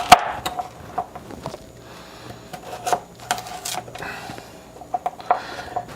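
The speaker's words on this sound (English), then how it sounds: "I definitely have never ever in my life cut sweet potatoes that are quite so firm and" Knife slicing through firm, crispy cured sweet potatoes on a cutting board, with sharp irregular chops and scraping taps spread across the moment, close and fairly quiet with no talking.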